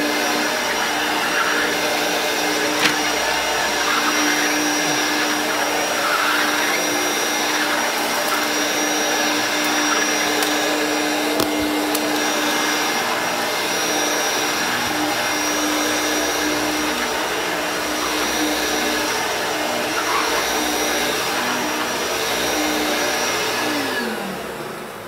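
A vintage Hoover Turbopower Freedom U2662 upright vacuum cleaner runs steadily on carpet, a loud continuous motor whine with a constant tone throughout and no speech.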